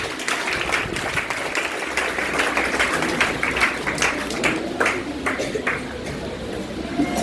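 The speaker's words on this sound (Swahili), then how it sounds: "Pigia Yesu makofi mazuri." A church congregation claps together during worship, a dense, steady stretch of hand claps at moderate loudness with a few sharper individual claps standing out.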